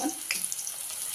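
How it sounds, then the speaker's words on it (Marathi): Vadi dropped one by one into hot oil for frying, giving a brief, faint hiss and sizzle with a soft splatter, close by and without talk. "तर तेल गरम झालेलं आहे, त्याच्यामध्ये एक एक वडी आपण टाकूया।"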